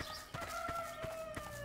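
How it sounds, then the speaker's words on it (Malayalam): A chicken clucks at midday, several short soft clucks spaced about a third of a second apart against a faint steady tonal background hum, fairly distant and quiet. "കോഴി പോകുന്നുണ്ട് ഉച്ച സമയത്ത്."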